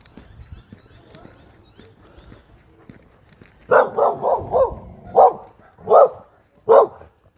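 A pet dog barks in a loud, close run of about seven sharp barks, the first few in rapid succession and the rest spaced out, following a quiet stretch with faint background sound.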